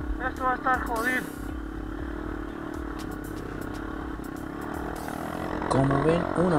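An enduro motorcycle engine labors and clatters up a steep muddy trail in Tunari Park, Cochabamba, running steadily under intermittent voices and swelling louder near the end.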